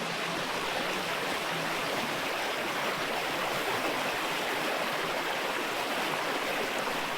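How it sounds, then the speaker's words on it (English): The Crooked River in Victoria's High Country flows as a steady, broadband rushing wash of water, loud and unbroken throughout. "So this is the Crooked River, the very river we've been crisscrossing the whole day."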